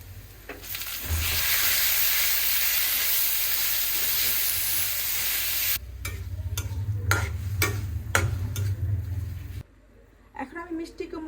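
Loud, steady sizzle of hot oil as dried chili, chopped garlic and onion hit the pan, a hissing wash that later breaks into stirring clicks and scrapes, with someone speaking over it.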